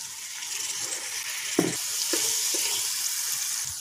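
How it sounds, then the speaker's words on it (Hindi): Chopped tomatoes frying in a pan for restaurant-style daal tadka give a steady close hiss of sizzling oil, with a few soft stirring knocks around the middle; nobody speaks. "इसको भी तकरीबन 2 से 3 मिनट के लिए फ्राई करेंगे।"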